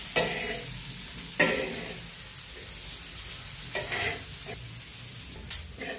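Chopped onion fries in a pan for egg bhurji, a steady close sizzle broken by several sharp scraping stirs of a spatula against the metal, with no voices.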